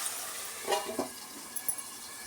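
Green peas frying in a pan for mint rice, a soft steady sizzle with a few stirring scrapes and light clinks of a spoon against the pan, close and quiet.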